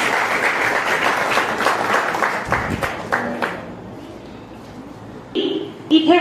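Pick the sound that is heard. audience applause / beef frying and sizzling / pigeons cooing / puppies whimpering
audience applause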